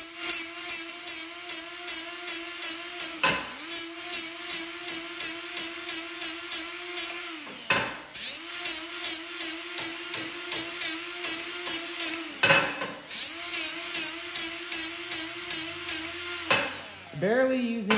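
A die grinder removes mill scale from metal before welding, giving a steady high whine broken into many short rhythmic strokes, with a few brief stops where the tool spins down and restarts.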